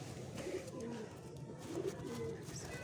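A pigeon coos softly a couple of times, low throaty calls repeating over faint background noise.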